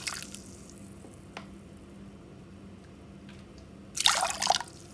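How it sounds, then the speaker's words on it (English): Water poured from a container into a bowl of jaggery, a short burst of splashing near the end after faint drips and small kitchen clinks in a quiet room. "And add 3/4 cups of water."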